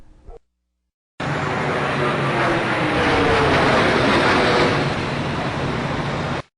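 A low-flying airplane, reportedly a Boeing 757, passes overhead in footage from the 9/11 attacks in New York, a loud, steady broadband engine roar that holds for about five seconds after a brief silent gap.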